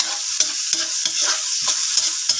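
Onion and garlic sautéing in a pan for a Filipino crab coconut stew, a steady close sizzle broken by regular rhythmic stirring scrapes about every third of a second.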